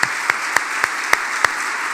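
A church congregation applauds for the Lord in a steady, fairly close wash of clapping, with a few sharper claps standing out at uneven intervals and no talk over it.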